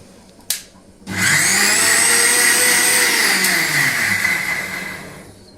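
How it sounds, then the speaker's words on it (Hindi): An electric grinder whirs steadily as it grinds chutney, starting abruptly after a brief knock and running loud and continuous for several seconds before easing off slightly. "और इसको बस पीस लेते हैं"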